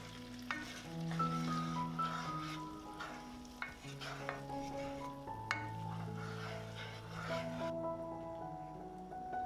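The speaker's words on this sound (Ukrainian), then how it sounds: "Добре перемішуємо смаження зі сметаною, щоб вони об'єдналися, та доводимо соус до кипіння." Fried chicken is stirred into sour cream in a pan as the sauce comes to a boil, with a steady soft sizzle and scraping stirs over a gentle background hum.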